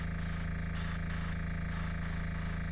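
A model Chevrolet Monte Carlo car body being spray painted, a loud continuous aerosol hiss that pulses in short bursts over a constant hum, close up with no talking.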